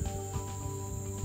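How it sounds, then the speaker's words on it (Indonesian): Crickets chirp in a tropical forest, a steady high-pitched trill carrying on without a break along with faint pulsing insect and ambient sounds, close and moderately loud, with no talking. "Jadi kalau di tengah hutan itu bunyi jangkrik,"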